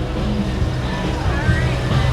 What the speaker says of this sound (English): Big old truck there.